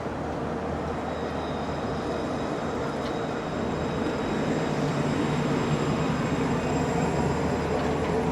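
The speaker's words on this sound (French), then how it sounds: "Tramway T6, direction Laboua, Gaston-Berger." A Lyon T6 tram arriving at a station, a steady rumbling roll of wheels on rails that builds slightly louder toward the end, with a faint high squeal from the track.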